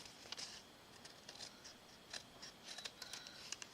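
Scissors snip along the border of a paper card for a Christmas card, giving a series of quiet, crisp cuts in irregular bursts. The cuts are close, and no one speaks.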